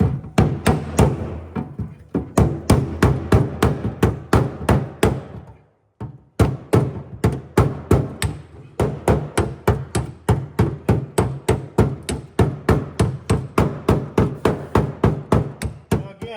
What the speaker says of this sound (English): See if I can't use a hammer and dolly and try and clean it up a bit.